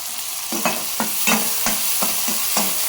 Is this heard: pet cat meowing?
no